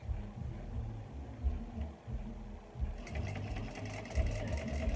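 A sewing machine stitches a seam along waterproof canvas, a steady mechanical whirring hum that grows slightly busier and brighter partway through, with no talking.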